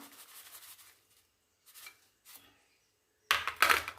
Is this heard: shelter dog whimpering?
no